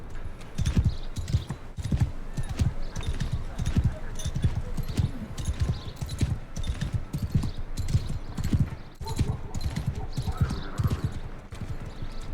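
Horse hooves galloping in Mount & Blade II: Bannerlord, a fast steady rhythmic thudding of hoofbeats close and loud throughout, with occasional talk over it.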